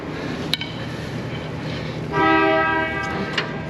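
A classic C2 Corvette body separating from its chassis during a frame-off gives a sharp crack, then a brief strained, squealing creak and a few more clicks, heard close over workshop background noise.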